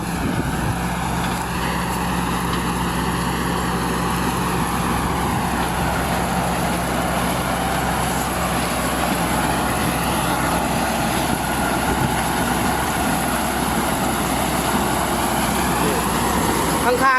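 A corn harvester works a field of five-row crop with a steady, loud engine drone and mechanical rumble that runs unbroken throughout, and a voice speaks over it.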